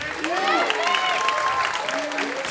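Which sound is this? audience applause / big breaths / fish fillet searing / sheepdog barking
audience applause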